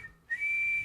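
A person whistles a single rising note to imitate an elk bugle. The tone starts with a brief slide upward, then holds steady and fairly loud for about half a second, close and alone.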